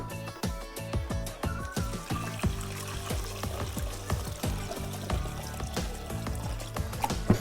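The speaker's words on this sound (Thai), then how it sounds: "ต่อไปเทน้ำสะอาดลงในถังที่เราเตรียมไว้นะครับ" Clean water poured into a plastic bucket holding chopped vegetable scraps for bio-fermented compost, a loud continuous gurgling splash filling the bucket close by, with no talking.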